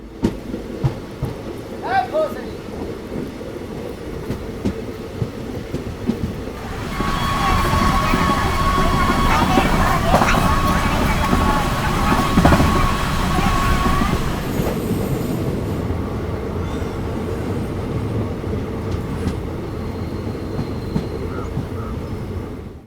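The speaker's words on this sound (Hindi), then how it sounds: "ये 2 मिनट होने के बाद अपनी ट्रेन का डिपार्चर हो चुका बिहार के मोतीपुर" Passenger train departing Motipur station in Bihar, heard from inside a sleeper coach: a rumble and rattle of wheels swells midway into a loud, steady roll, then eases back.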